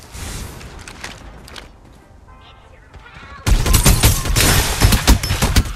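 Gunfire in the battle royale game Farlight 84, with faint shots and muffled activity at first, then a sudden loud burst of rapid, dense firing that continues to the end.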